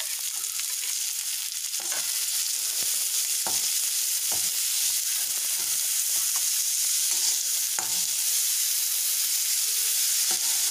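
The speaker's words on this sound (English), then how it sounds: "Toss it for 1 minute" Curd being tossed in a hot pan for chutney produces a continuous, fairly loud sizzle with intermittent stirring clicks and scrapes throughout, with no talking.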